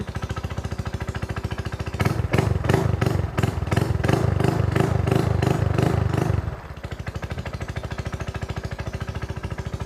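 A Honda PCX scooter, repaired after a shorted control box, cranks with a loud, rapid rhythmic chugging for several seconds, then drops to a steady, quieter ticking idle up close.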